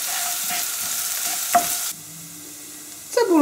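Chopped onion hits hot melted fat in a pan and fries with a steady sizzle, clear and close, with a brief stirring scrape partway through and a burst of louder spitting at the end.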